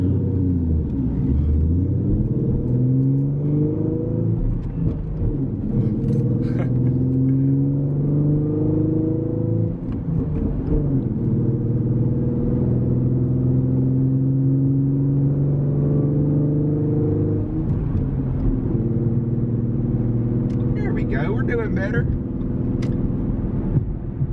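A manual stick-shift car accelerating up through its gears, the engine note climbing and dropping repeatedly as each shift comes, loud and close, with people talking over it.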